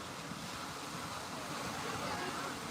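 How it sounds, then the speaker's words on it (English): Ocean surf rolls onto a beach at sunrise in Playa del Carmen, Mexico, a steady broad wash of waves with wind, distant and even, with faint voices. "listening to the waves"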